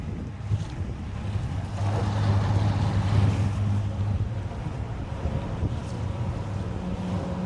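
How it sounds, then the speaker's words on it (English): Wind gusts across an open fishing spot in North Texas, a steady, blustery rumble of buffeting air that swells slightly midway and never lets up, with no voices. "the wind's a little much today"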